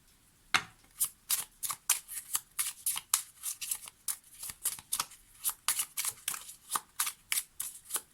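A deck of Lenormand cards is shuffled by hand, a rapid series of crisp, close riffling snaps at a fairly even rhythm, with no one talking.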